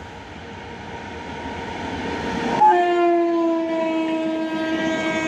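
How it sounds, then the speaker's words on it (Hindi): Indian passenger train, the Maurya Express, sounds a long steady horn as it approaches through darkness, rising out of a dull rolling rumble midway and holding loud to the end. "हॉर्न दे रहे हैं।"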